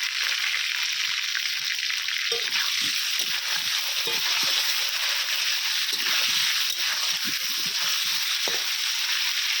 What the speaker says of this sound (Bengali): এবারে আমি আলুগুলোকে ভেজে নেব